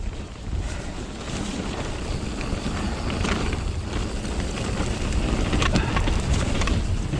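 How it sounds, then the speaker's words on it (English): Wind buffets the microphone in loud, constant broadband rumble on a windy trail ride in South Wales, with no voices over it. "Still pretty windy right in my face here."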